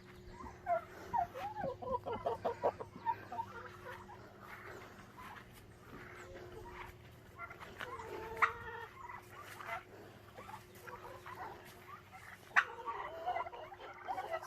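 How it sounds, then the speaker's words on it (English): Turkeys gobble in a backyard with chickens nearby, faint, scattered calls rising intermittently over quiet outdoor background. "See turkeys?"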